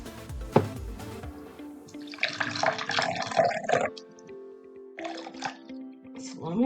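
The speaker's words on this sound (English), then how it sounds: "then we're going to want to add the distilled water" Distilled water, about 60 milliliters, is poured into a container while preparing an iodine clock reaction: two splashy pouring bursts of moderate loudness, with a brief voice and clatter near the start.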